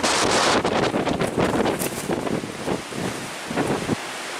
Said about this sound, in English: Now that is a strong wind gust, blowing over 200 miles of open water of Lake Superior.